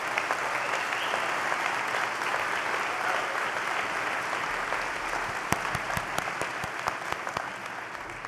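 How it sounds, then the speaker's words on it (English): A graduation audience claps steadily at a commencement ceremony, a thick continuous wash of many hands, with a few sharper nearby claps standing out toward the end. "Give yourselves a big round of applause."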